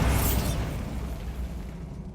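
A Bombarda blasting spell goes off in Hogwarts Legacy, a single heavy explosive boom with a burst at the start that rumbles and fades over about two seconds.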